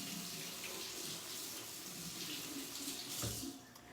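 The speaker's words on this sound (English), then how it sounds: "we're going to take our sweet potato and give it a good little rinse" A sweet potato is rinsed under a running kitchen tap, a steady faint rush of water with a brief splash of handling near the end.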